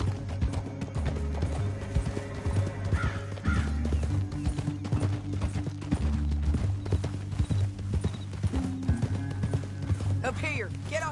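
Horse hooves clip-clop in a steady, rhythmic gait in Red Dead Redemption 2. The hoofbeats run close and clear throughout, under people talking, and a horse briefly whinnies near the end.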